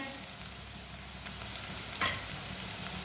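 Finely chopped onions fry in a pan for chana, a soft, even sizzle close by with a faint scrape of stirring partway through.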